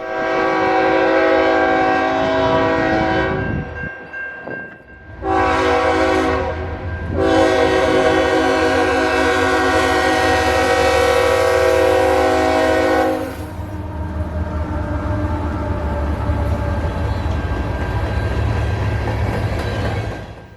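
A BNSF coal train rolls through Dalton, its horn blaring in loud sustained blasts with short breaks, then the heavy low rumble of the passing cars carries on alone at close range.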